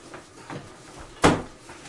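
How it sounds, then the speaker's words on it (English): A door closes indoors with a single sharp thump and brief rattle, preceded by softer shuffling and handling noises, fairly close with a quiet room around it. "Charles, close the door. Close the door."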